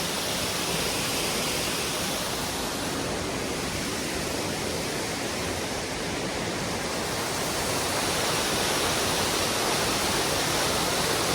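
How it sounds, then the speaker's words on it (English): Long Creek Falls on the Appalachian Trail roars continuously, a broad, even rush of water slamming down close by with no breaks and no voices over it. "Long Creek Falls. And I can feel the mist. With the water slamming down, I can feel it."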